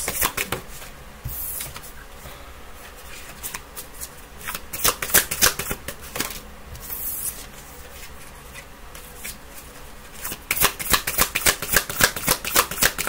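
Tarot cards being shuffled repeatedly in quick riffling bursts, crisp and close, with short pauses between shuffles and no talking.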